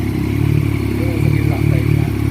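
A Yamaha MT-09 motorcycle fitted with an Akrapovic exhaust and silencer idles close by, a loud, steady, throbbing engine rumble with a faint mechanical clatter running throughout.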